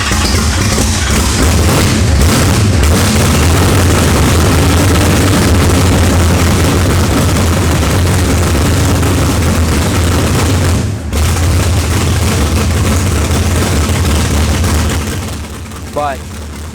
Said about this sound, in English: And we fired it for the first time. It really, honestly, fired right up.